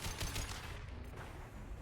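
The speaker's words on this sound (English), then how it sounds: "Concussive shot." A Concussive Shot ability firing in Mass Effect 2, heard as dense, sustained blasts and battle noise running loud and continuous for about two seconds, with no voices over it.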